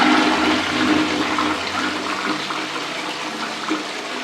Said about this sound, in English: watch the flushing system.